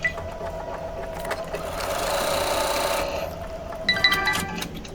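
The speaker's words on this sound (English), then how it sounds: "So the machine has stitched the trimming line and the placement line." A sewing machine fitted with a SEWTECH magnetic hoop stitches trimming and placement lines on fabric, a steady close mechanical whir that swells louder midway, then ends in a few quick clicks, with no talking.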